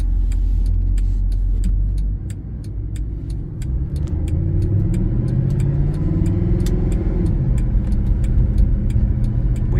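A 2012 Mercedes-Benz SLS AMG driving in Sport Plus mode, its engine a loud, close, continuous rumble that dips briefly, then builds again as the car accelerates through rising and falling revs.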